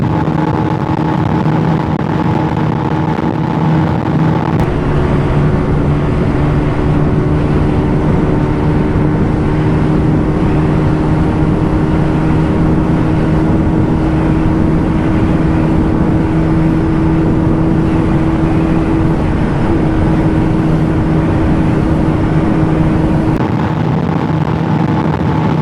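Pulsar 150 and Apache RTR 160 motorcycles drag racing on a highway, a steady loud engine drone with sustained harmonic tones and rushing wind throughout, no voices heard.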